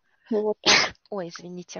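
A sneeze bursts out once in the middle of a Russian-language conversation, flanked by a woman's speech before and an apology after.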